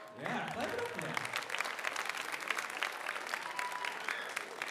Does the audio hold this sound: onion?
no